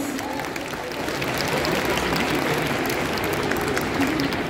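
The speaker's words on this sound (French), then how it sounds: "Et on peut l'applaudir encore une fois" A crowd at a cosplay competition on stage at a manga and sci-fi convention in Paris applauds a contestant, steady dense clapping that swells slightly and holds with faint voices beneath.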